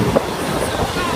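A Class 221 Voyager train rushes past at Dawlish in a loud, steady roar of wheels and rail noise, heard close up with no pauses.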